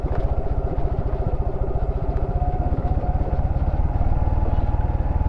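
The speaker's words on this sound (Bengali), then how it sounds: "ফার্স্ট গিয়ার আমি দিয়ে রাখছি, ইঞ্জিন ব্রেকে আছে" A vehicle held in first gear on a steep downhill mountain road in Bandarban throbs with a steady, low, close engine pulse under engine braking, even and unbroken throughout.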